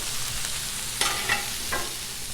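Shrimp fajitas sizzle steadily on a hot Blackstone griddle, a close, even hiss broken by three brief scraping stirs of a spatula.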